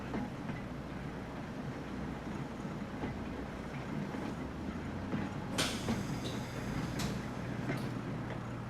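Electric trams rolling through a city in the Transport Fever video game, a low steady rumble with a few sharp clicks and brief squealing tones near the end, mid-distance and with no voices.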